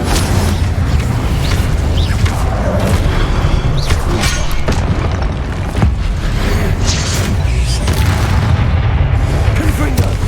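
Incendio fire spell cast in Hogwarts Legacy on PS5, heard as dense, loud booming bursts and rumbling crackle filling the whole stretch, with a voice calling out amid the noise.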